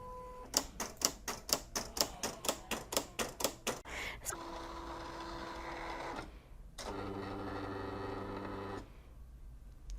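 A Silhouette CAMEO cutting machine works through Siser EasyReflective heat transfer vinyl, starting with a rapid series of rhythmic clicking pulses, then settling into sustained motor whirs broken by short pauses, close and fairly quiet.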